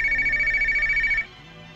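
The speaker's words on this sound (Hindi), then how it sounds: "ये बेवक्त किसका फोन है?" A phone rings with a steady electronic ring tone, loud and close, in a Hindi movie scene, then cuts off abruptly partway through with a low hum remaining.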